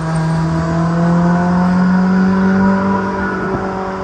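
A race car holds a steady, loud engine drone at high revs on a track during a private event closed to the public, one sustained note with no voices.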